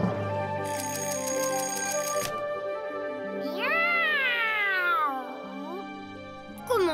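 A cartoon-style voice imitates a cat with drawn-out sliding meows, heard alongside a ringing tone and sustained musical notes from a French children's animated show.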